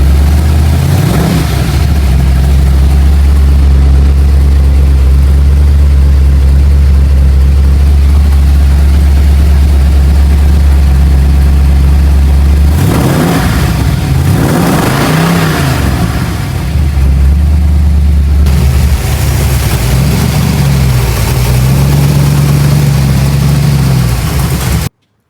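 An early 1970s Ford car engine idles loud and close with a deep steady rumble, then revs up in two surges before settling back to idle.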